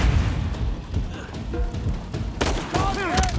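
Explosions and booms rumble through action gameplay in Uncharted 4, dense and layered with tonal music or effects, as a voice speaks over the blasts.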